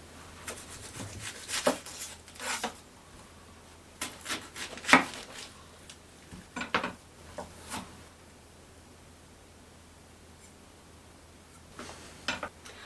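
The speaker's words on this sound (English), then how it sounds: "I'll go ahead and cut up this onion." A knife cuts up an onion on a board, giving scattered soft chops and taps in irregular groups, close but fairly quiet against a faint steady hum.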